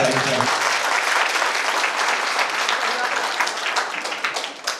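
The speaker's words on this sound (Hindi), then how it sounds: "उनके लिए ताली बजानी चाहिए।" A brief spoken phrase gives way to a full audience applauding at the opening ceremony of a health care and educational institution in Buxar, with loud, dense clapping that holds steady and then begins to thin out toward the end.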